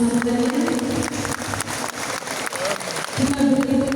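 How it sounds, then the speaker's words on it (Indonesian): An audience at a university rector handover ceremony applauds after the professor's speech, a moderate spread of clapping under a steady sustained tone, dipping briefly midway before swelling again. "Kita beri tepuk tangan sekali lagi Bapak Ibu untuk Profesor yang telah menyampaikan pembicaraan."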